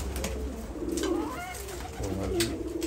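Pigeons in an Arab-breed coop coo in low, repeated throaty bursts close by, with a few rustles and the odd faint chirp running through the steady coop ambience.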